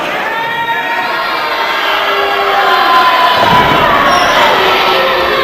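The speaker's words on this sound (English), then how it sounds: "Fans wildly booing Shokun here" Wrestling fans in an arena at a CCW Evolution match between Tookie Tucker and Shokun, a loud sustained roar of crowd voices with shouting and jeering that swells midway, under a commentator's talk.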